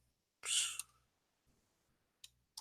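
Computer keyboard keys click in a few short bursts during coding work, close and fairly quiet, with a cluster of rapid taps followed by scattered single clicks.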